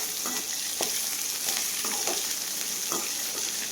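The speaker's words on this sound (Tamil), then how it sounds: "அதுக்கப்புறம் ஒரு 6லேருந்து 7 சின்ன வெங்காயம், 3 வரமிளகா, ஒரு கொத்து கருவேப்பிலை 3 போட்டு லைட்டாக வதக்கிக்கோங்க." Small shallots, dried red chillies and curry leaves sautéing in a pan produce a dense, steady sizzle with light intermittent scrapes from stirring, close and continuous, with no voices.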